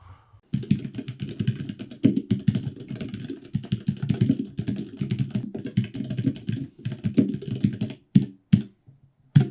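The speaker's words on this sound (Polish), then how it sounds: "jak będzie wyłapywał dźwięki stukającej obok klawiatury" Rapid typing on a computer keyboard near a Razer Seiren V2 Pro microphone, dense clicking bursts with brief pauses, ending in a few scattered keystrokes.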